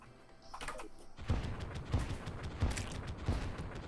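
Weapon explosions in the Terraria Calamity Mod game: about four evenly spaced booming blasts roughly every two-thirds of a second, layered over a dense, noisy background of in-game effects.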